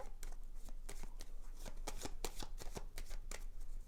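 A deck of tarot cards being cut and handled close by, producing a quick run of crisp card flicks and riffling taps, quiet and alone.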